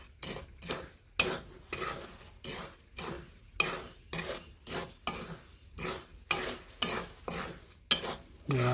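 A spoon stirs and scrapes ingredients mixed with salt in a pan for a Gujarati snack, making about a dozen regular rasping strokes in a steady rhythm, close and fairly loud with no talk.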